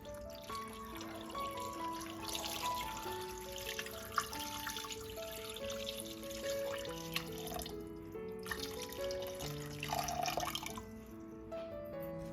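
A small amount of water is poured into a pot of onions while making Vietnamese chicken noodle soup, a soft, trickling splash that is faint beneath steady background music.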